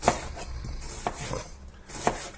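A knife chops garlic cloves on a board, a handful of sharp, close taps spaced about half a second apart with no voices.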